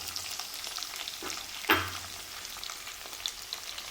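Ginger, garlic, green chillies, curry leaves and shallots sautéing in oil for a pickle, giving a continuous close sizzle with occasional stirring scrapes and one sharp clink of utensil on pan.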